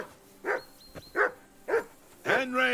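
A dog in the Kingdom Come Deliverance 2 video game barks four times in sharp, evenly spaced bursts, close and fairly loud, ending in a longer whining bark.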